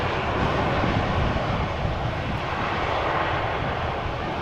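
Steady, loud roar of airplane engines at Amsterdam Schiphol Airport, a dense continuous rumble with no breaks, close and unbroken throughout.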